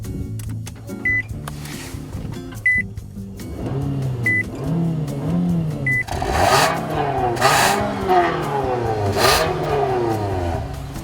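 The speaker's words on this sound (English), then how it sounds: "You know, Nathan, it has dual exhaust. Dual exhaust, and it sounds, well, actually it sounds pretty good." A 2015 Chrysler 200 with dual exhaust revs up and accelerates, a rising roar building after a few faint beeps, loud and close.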